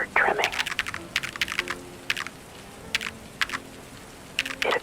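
Stenography machine keys typed in soft ASMR style, with short clustered bursts of clicky strokes separated by pauses, close and crisp, while a soft-spoken voice murmurs quietly in the background.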